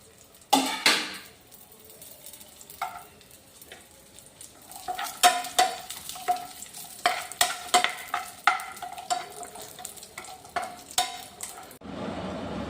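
Raisins frying in ghee as a spoon stirs the pan, a soft steady sizzle broken by repeated scraping and clinking strokes, close and fairly quiet.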